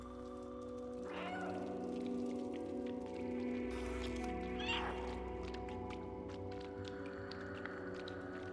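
A cat meows twice from the video game Stray, short rising cries over a steady humming game ambience with faint pattering like rain.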